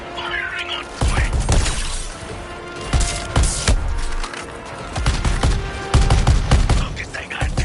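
Gunfire from the Suicide Squad video game crackles in sharp bursts and repeated shots with impacts and shattering debris, loud and busy, amid chaotic battle noise and character chatter.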